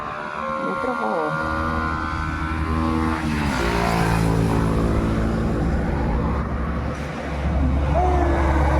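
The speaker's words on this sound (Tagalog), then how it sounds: "May truck oh." A truck passes by on a street with a loud, sustained engine drone and shifting tonal whine, close and steady throughout, while a voice is faintly heard.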